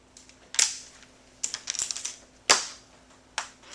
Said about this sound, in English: I'm just going to cut this at an angle, a pair of wire cutters here